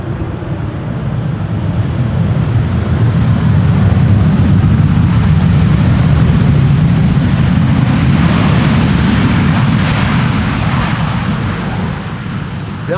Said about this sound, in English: Delta Airlines having arrived from Atlanta, Georgia, flight 74.